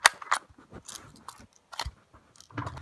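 An airsoft gun fired outdoors gives a few sharp, close pops spaced unevenly over a couple of seconds, with soft handling noise between shots.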